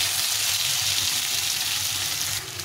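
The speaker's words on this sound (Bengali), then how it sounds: "এইভাবে করে আলুটাকে প্রথমে একটু ভেজে নেবো" Potatoes fry in a pan of hot oil for a Bengali mixed-vegetable fish curry, giving a steady, close, dense sizzle with no voices.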